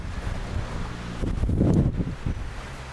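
Strong wind blows across an outdoor spot beside a diesel truck, a steady rushing buffet on the microphone that swells briefly in the middle before settling.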